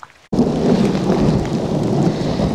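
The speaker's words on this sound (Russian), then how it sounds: "накрыл дождь, мы на берегу, ну, вроде погромыхивает" Steady rain with a low rumble of thunder on a riverbank, a dense wash of noise that starts abruptly and continues loud with no talking.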